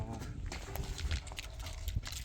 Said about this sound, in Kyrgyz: Күчтүү жылкы туугандар мына.